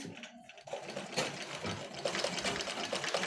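A sewing machine stitches fabric in a steady, close mechanical whir with rapid repeating needle clatter, briefly pausing near the start before running continuously.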